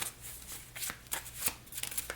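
A deck of cards in a theropod-themed deck-building board game is shuffled by hand: a run of crisp riffling bursts and soft flicks over about two seconds, close and fairly quiet, with no talk.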